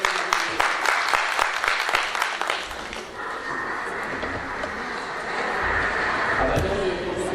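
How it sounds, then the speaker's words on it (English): Applause from an audience in a room in London, a dense patter of clapping that fades after a few seconds into quieter room noise and murmuring. "that was applause from the room in London as well"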